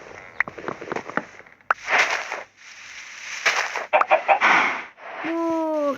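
A chicken clucks and squawks nearby in loud, choppy bursts, broken by short pauses, with a rising crow-like call near the end.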